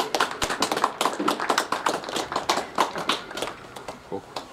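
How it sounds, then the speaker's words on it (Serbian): Spectators applaud the under-17 national football teams of Estonia and Belgium at an elite-round match, a steady burst of crisp, many-handed clapping that swells and gradually thins out toward the end. "Molim jedan aplauz za"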